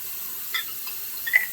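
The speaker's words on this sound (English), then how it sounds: "Really quickly, just let me put some water in my scuttle real quick." Hot tap water runs into a shaving scuttle as a steady hissing stream with a few faint splashes and clinks, close and moderately loud.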